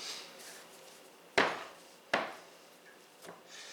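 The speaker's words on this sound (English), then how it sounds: "I'm going to knead this just a few times to make the dough malleable." Cheese straw dough kneaded by hand on a work surface, giving two sharp, close thumps about a second apart and a fainter third knock, over quiet room tone.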